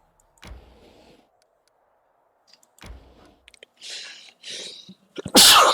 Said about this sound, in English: Excuse me, I've really got the sneezes right now.